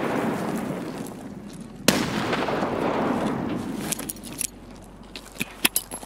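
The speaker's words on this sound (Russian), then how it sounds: "Нам граната зашла." Grenade blast in the shooter game Escape from Tarkov, a sudden sharp boom followed by a rumbling tail, then several smaller cracks and clatters.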